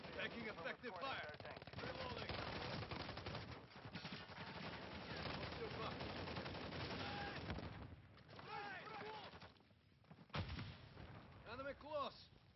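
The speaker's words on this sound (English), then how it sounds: "Taking effective fire!" Rapid automatic gunfire and heavy bursts from a Call of Duty Modern Warfare 3 multiplayer match, loud and dense for most of the stretch, then thinning into scattered shots with game voices calling out over the fighting.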